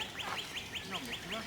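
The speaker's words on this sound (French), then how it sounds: "Les oiseaux ont adopté ce petit paradis fait pour eux." A bird in a meadow and woodland valley park at Goëlo gives a rapid series of about seven short, honking, quack-like calls in quick succession, close and fairly loud.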